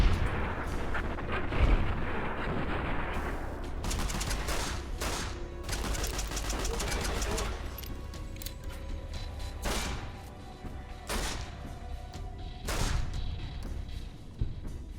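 Pistol gunfire rings out in the video game Fallout New Vegas as repeated sharp shots and booming blasts over a dense, rumbling battle din, loud and close with brief lulls.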